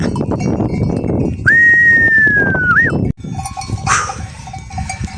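Akkaraman sheep in a harsh winter blizzard, with livestock calls and a clinking bell set against blowing wind, and a long whistled note cutting through partway.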